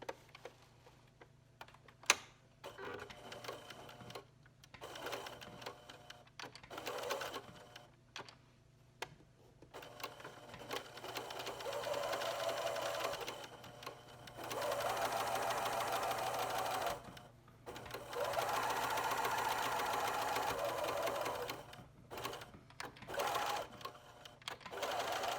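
A sewing machine stitches shut an opening in a felt tree, running in several bursts of steady mechanical whirring that start and stop, with quieter gaps and small clicks between runs.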